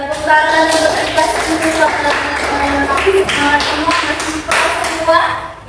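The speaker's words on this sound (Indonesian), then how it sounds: "Oke, tepuk tangan untuk kelas" A classroom of students applauding together, a dense spread of claps running steadily throughout with voices mixed in.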